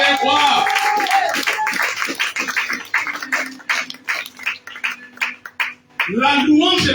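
A church congregation claps in steady rhythmic applause, loud and close, with voices calling out at the start and again after the clapping stops.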